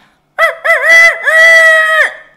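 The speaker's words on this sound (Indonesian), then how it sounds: "begitu suara ayam berkokok" A rooster gives one loud, close, drawn-out crow with a clipped opening and a long, sustained call, heard alone in the middle of a podcast conversation.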